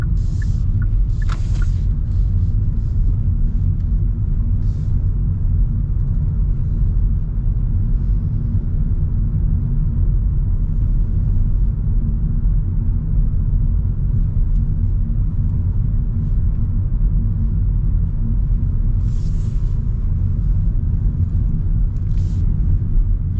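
A 2025 Hyundai Elantra cabin while driving and accelerating, a steady deep engine and road rumble filling the whole stretch, with a few faint higher clicks and ticks over the drone.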